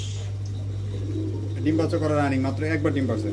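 Damascene pigeons in a loft coo softly, with low rolling calls in the latter half over a steady electrical hum and faint background noise.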